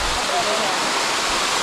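Rushing waterfall with a steady broadband roar of falling water, close and continuous throughout, with faint voices in the background.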